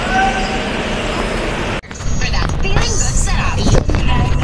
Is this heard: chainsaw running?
no